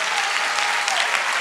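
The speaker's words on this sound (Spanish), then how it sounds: "Recibe el aplauso de la concurrencia." Applause from the audience at a live comedy show in Santiago, a steady dense wash of clapping filling the whole moment with no voices on top.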